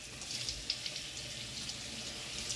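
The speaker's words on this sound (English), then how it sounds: "I'm going to wash the soap off the bowl with some nice clean water" Clean cold tap water runs steadily while soap is rinsed off a vintage wooden salad bowl in a sink, a constant hissing splash with a few small knocks and drips, fairly close and moderately quiet.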